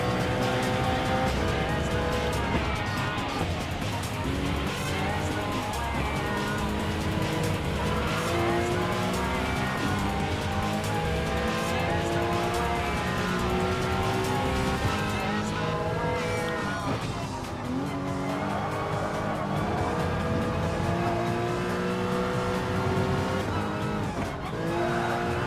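A Porsche Cayman Group 4 race car in Gran Turismo Sport, its engine droning steadily through gear changes with tire squeal through turns, a continuous loud racing roar with faint talk underneath.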